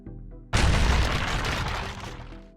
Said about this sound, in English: The room exploded in a blast of force and debris.